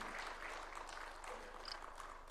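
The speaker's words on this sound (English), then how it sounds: "Why don't we welcome him with a hearty and warm clap as he comes to address us" Kenyan President William Ruto is welcomed with steady, warm applause at a book launch event, continuous clapping from a large seated audience heard at a distance.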